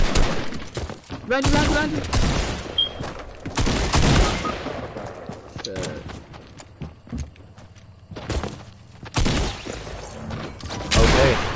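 Bursts of video game gunfire aimed at a wall, with rapid volleys of shots repeating in clusters amid other game noise and hoofbeat-like clatter, while players talk over it.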